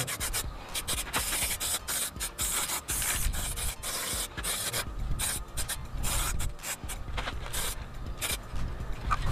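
A spray can of Renu action paint hisses in repeated bursts onto a wheel, with short gaps between passes and steady rough spray noise throughout, close and fairly loud.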